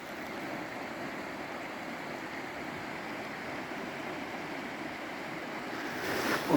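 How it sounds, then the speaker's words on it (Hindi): Steady rushing water flowing in an icy, snowy outdoor spot, a continuous broadband wash that is fairly close and even, with no voices heard. "पानी इत्थे चल रहा।"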